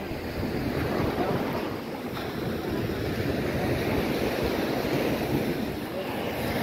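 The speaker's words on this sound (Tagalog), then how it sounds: "Lakas ng alon, no?" Strong sea waves surge and crash against the seawall of a coastal boulevard, a loud, continuous roaring wash mixed with wind buffeting, with no break.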